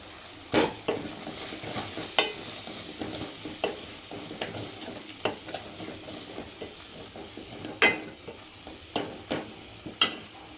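Chili and turmeric powder sautéing in a pan for a carp fish curry, with a soft continuous sizzle broken by irregular sharp scrapes and clacks of a stirring spoon against the pan.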